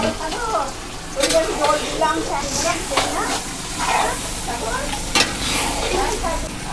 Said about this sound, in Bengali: এবার মাখানো মাংসটা দিয়ে দেওয়া হচ্ছে পুরো মশলাটার উপর।